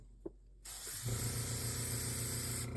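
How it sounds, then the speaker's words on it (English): Light green or white model paint sprays from an airbrush nozzle while painting a 1:350 Star Trek Enterprise refit model kit, a steady close hiss that starts abruptly after a brief quiet tick and runs continuously to the end. "let's get a little bit of the white paint, or the light green, out of the nozzle here. Spraying it a little bit."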